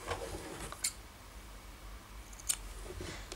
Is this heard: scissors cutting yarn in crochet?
yes